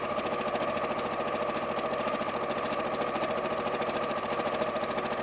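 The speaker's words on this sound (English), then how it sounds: "Oh, it's a little bit of power sewing now." A sewing machine runs at full power while stitching a strap, giving a loud, rapid and unbroken mechanical chatter that holds steady throughout.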